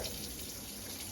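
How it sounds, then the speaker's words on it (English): Cold water running steadily from a kitchen tap to rinse cooked pasta, a continuous hiss and splash heard close and alone. "Okay, a little bit of cold water,"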